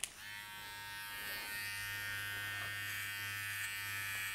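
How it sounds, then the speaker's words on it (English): A self-cut system hair trimmer runs with a steady, close electric buzz while cutting hair for a fade, holding a constant drone throughout with no talking. "I'm gonna get the self-cut system trimmer and I'm going to bald"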